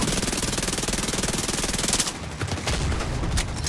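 Sustained automatic gunfire fires at a boss during an Iron Horse raid in The Division 2. A dense, rapid stream of loud shots runs for about two seconds, then breaks into scattered bursts.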